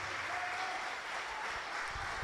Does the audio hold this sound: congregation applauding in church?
yes